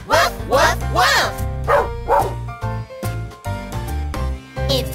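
A singer imitates a dog with repeated "woof woof" barks in a cheerful children's farm-animal song, several rhythmic vocal woofs sung over bright music.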